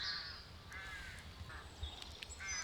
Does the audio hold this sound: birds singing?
yes